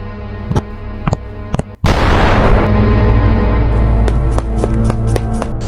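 Gunshots ring out in a staged home robbery scene, a few sharp isolated cracks followed by a loud sustained burst of noise, with no voices heard.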